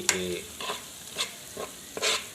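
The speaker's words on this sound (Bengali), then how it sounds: "ভালো করে এটা কষানো হোক ভালো করে ভাজা ভাজা হোক" Beef with spices is stirred and fried in a rice cooker pot, with several distinct spoon scrapes spaced about half a second apart over a low, continuous sizzle.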